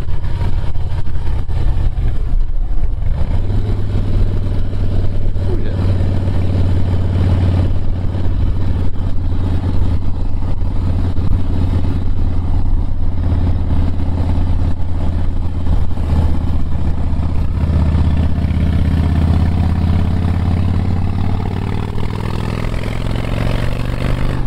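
A 2005 Harley-Davidson Softail Springer Classic motorcycle rides along, its engine a loud, steady low rumble with wind roar throughout, the pitch easing and rising gently as it cruises.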